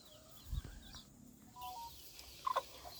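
Chicks and hens in a small backyard poultry coop make soft scattered clucks and a few short peeps, faint and intermittent over a quiet low background.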